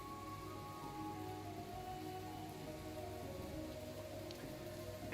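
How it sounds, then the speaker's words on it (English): Steady rain falling at night over a farmstead, a dense continuous patter and wash with no breaks, even and fairly close throughout. "The sound of the rain is a bit comforting"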